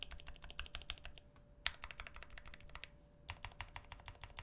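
A custom TX-65 mechanical keyboard with its switches, reinforcing plate and housing is typed on in quick, irregular bursts of crisp, soft clacks, with a short pause midway and no voices.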